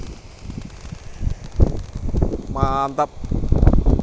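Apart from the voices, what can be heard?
strong wind blowing outdoors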